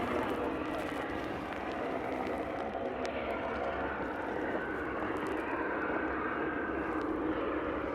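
Sightseeing helicopter near Juneau, Alaska, its engine and rotor giving a steady, loud, continuous roar throughout, with no clear talk over it.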